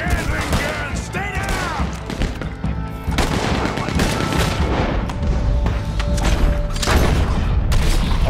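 A gatling gun fires in the Red Dead Redemption 2 video game, dense rapid bursts of loud gunfire with booms amid other in-game sounds, while a voice talks intermittently over the shooting.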